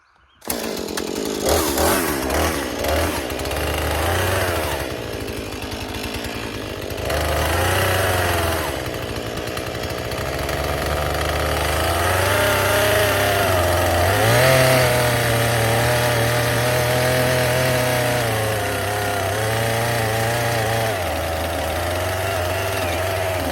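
A power saw trimming boards, a loud sustained whining drone that rises and falls in pitch as it bites through wood, running nearly nonstop near a generator.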